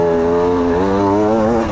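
A TM EN 300 enduro dirt bike engine drones loud and close at steady revs, its pitch dipping and settling as the rider shifts gears.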